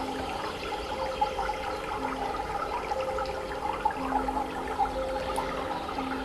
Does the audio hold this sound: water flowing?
yes